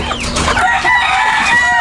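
Chickens cluck and crow loudly up close, several overlapping calls in a busy flock with no talking.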